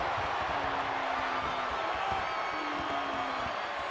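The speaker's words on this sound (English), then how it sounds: "A raucous SmackDown crowd." A raucous SmackDown arena crowd in the WWE 2K24 wrestling video game keeps up a dense, steady roar with occasional whoops and tonal chants rising above it, loud and continuous with no pauses.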